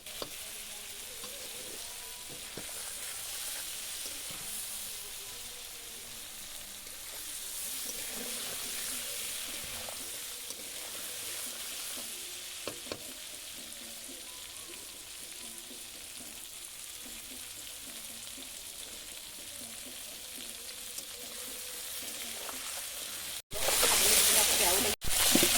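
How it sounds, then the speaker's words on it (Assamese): Duck meat seasoned with salt and turmeric fries steadily in a pan with a soft, continuous sizzle and occasional stirring scrapes, then a louder burst near the end. "এনেদৰে অলপ সময় ভাজি থাকিব লাগিব।"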